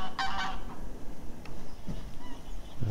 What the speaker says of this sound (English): We've got some Canada geese and some noisy grey lag geese there.